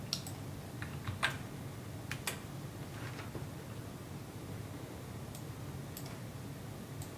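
Faint, sparse keystrokes on a computer keyboard as a short word is typed, giving quiet irregular clicks over a low background hum.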